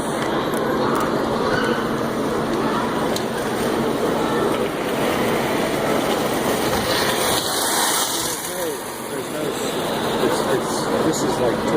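A locomotive engine running slowly at a high wheeler train show, producing a steady, continuous mechanical rumble and rolling noise at close range without a break.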